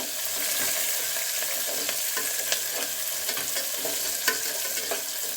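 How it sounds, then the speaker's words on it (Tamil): Garlic and green chillies sauté in hot oil with a steady, even sizzle and faint stirring scrapes, close and alone with no voices. "போட்டு கொஞ்சம் நல்லா வதக்கிக்கிறோம் கொஞ்சம் நல்லா கோல்டன் கலராக வதக்கட்டும்"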